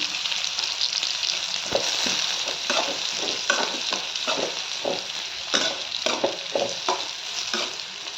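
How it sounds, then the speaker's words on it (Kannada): Bitter gourd frying in a little oil with cumin seeds, a continuous sizzle with repeated scraping stirs of a spoon through the pan. "ಹುರಿಯೋದ್ರಿಂದ ಚೆಂದಾಗಿ ಮೆತ್ತಗಾತ ಹಾಗಲಕಾಯಿ"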